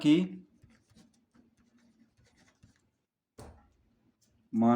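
Chalk or marker scratches on a board while a math problem is worked out, faint and intermittent strokes in a quiet room, with a voice speaking at the start and end.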